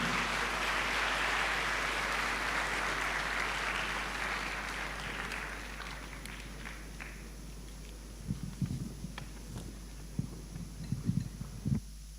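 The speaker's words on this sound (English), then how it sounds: "can you please give a big round of applause to all three panelists once again?" Audience applause for three panelists closing an international academic conference panel discussion, a dense broad wash of clapping that fades gradually over several seconds, leaving scattered soft thumps and shuffling.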